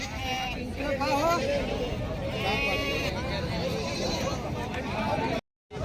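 Goats bleating at a crowded, muddy village goat market in Vasmat, Hingoli, with repeated wavering calls over a constant hubbub of people talking nearby and distant traffic.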